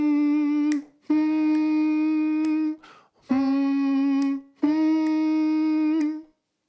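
A single voice hums the lower mid harmony line of a song in four long, steady sustained notes separated by brief breaths, close and clear with no accompaniment.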